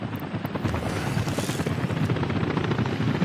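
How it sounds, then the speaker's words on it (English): Helicopters fly in the Soviet city-building game Workers & Resources: Soviet Republic, giving a steady, loud rotor chop with a droning engine that holds for the whole stretch without talk. "The helicopters are inbound, running around."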